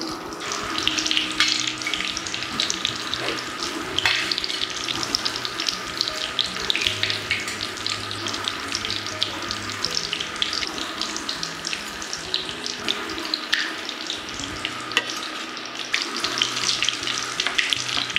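Mirchi bajji, battered green chillies, fry in a pan of hot oil that is running low. A dense, loud, crackling sizzle runs unbroken throughout, with no talk over it.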